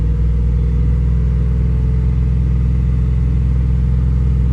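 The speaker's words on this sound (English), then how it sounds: "I'm gonna go at 2500 RPMs." A 1998 Ford F-150 engine running lean with a rough idle holds a steady, loud, close-up drone as it is revved and held at around 2500 RPM, with no talk.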